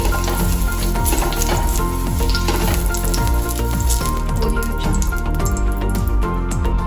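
Oil sizzles loudly and continuously on a hot griddle greased for amboli, a bright, crackling fry that stays close and constant with no speech over it.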